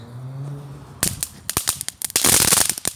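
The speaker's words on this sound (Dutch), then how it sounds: "Een knetterbol." A crackling ball firework bursts into a dense run of sharp pops and crackles, loud and close, the rapid snapping building into a sustained fizzing crackle after a quiet start.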